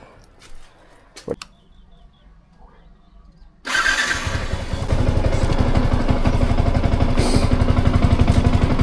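A Yamaha R15 V2 motorcycle engine fires up after a few faint handling noises and then idles loudly and steadily, a close, continuous mechanical rumble that fills the rest of the stretch.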